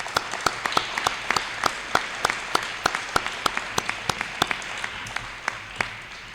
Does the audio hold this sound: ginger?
no